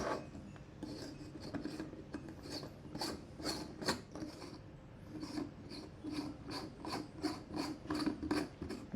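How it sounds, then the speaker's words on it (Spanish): A light bulb is screwed into its socket with close, faint scraping and grinding rasps. The rubbing and clicking strokes come in uneven bursts of twisting. "ahora vamos a proceder a montar la primera bombilla"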